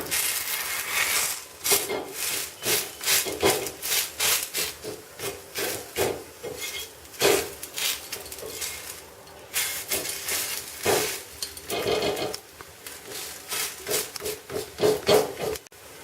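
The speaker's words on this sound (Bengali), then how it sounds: "খুন্তি করে করে উল্টাতে থাকতে হবে এবং হালকা অল্প অল্প এরকম টিপে দিলে এটা সিদ্ধ হয়ে যায় খুব ভালোভাবে" A spatula turns and presses vegetable patisapta in a pan, giving repeated close scraping and rubbing strokes in an uneven rhythm over a soft continuous hiss, with no voices.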